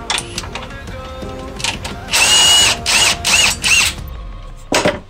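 A power tool drives out the last clutch bolt on a Nissan Xterra gearbox, several loud broadband bursts of whirring in quick succession, then a final short burst after a pause, close and alone.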